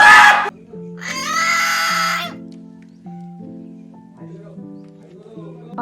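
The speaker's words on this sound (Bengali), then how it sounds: "বাপ রে বাপ, কি চিৎকার করলো!" A native country chicken squawks and screams loudly in a sharp burst at the start and again in a long harsh stretch, then quieter clucking mixes with a steady low background hum.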